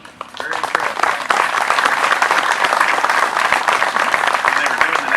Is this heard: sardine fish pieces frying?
no